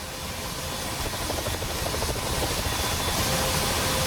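AH-64D Apache helicopter engine starting up in the DCS flight simulator, a loud steady turbine whine and rumble that builds slightly over four seconds.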